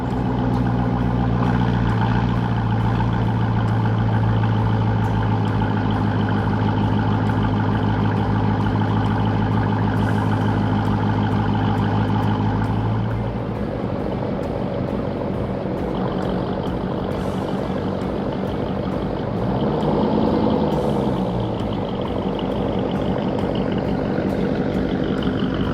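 A Dodge Durango SRT rumbles in a steady, loud idle, then the engine note shifts and softens as it is put into reverse and creeps backward, with a brief rise in revs near the end.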